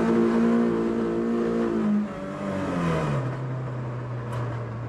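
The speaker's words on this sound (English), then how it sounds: "revs are going down slightly at idle, so maybe the coil pack wasn't the issue." A car engine with a suspected coil pack fault revs high, then drops and settles into a steady idle, running alone and close with no talking.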